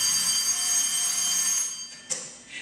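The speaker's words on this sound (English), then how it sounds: "Then, when the phone rings, he fairly leaps across the room to answer it." A telephone in a Superman radio drama gives a bright, sustained metallic ring that stops abruptly, followed by a short click as the receiver is picked up.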